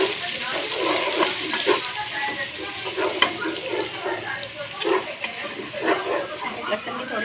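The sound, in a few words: frying cumin, ginger and garlic in a pan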